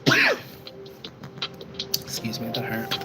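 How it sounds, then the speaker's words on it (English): A single sharp cough bursts out loud at the very start, then fades into quiet room noise with faint breathy murmurs. "I'm gonna cough."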